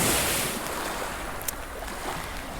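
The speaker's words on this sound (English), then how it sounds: "Don't know what the name of this little river is." A small river flowing over rocks in agate-hunting country, a steady broadband rush of water that holds constant throughout, heard outdoors with no talking.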